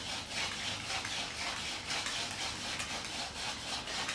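Wooden hand-drill spindle spun against a wooden hearth board for bushcraft friction fire, giving a steady, close, continuous dry rubbing and scraping noise with slight back-and-forth surges and no talk.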